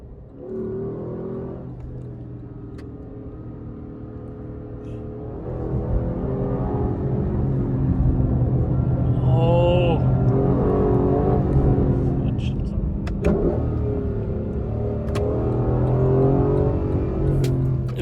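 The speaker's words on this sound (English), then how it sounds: "Absolutely ridiculous vehicle. With a beautiful exhaust as well." A Lexus LC500 sports car's exhaust rumbles and revs up close, its deep engine note swelling and rising in pitch for several seconds, with people talking over it.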